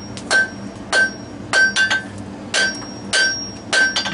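A hammer strikes metal on an anvil while forging a bevelled leaf scroll, seven sharp ringing blows in an even rhythm about every half second, each with a bright metallic ring, close and clear.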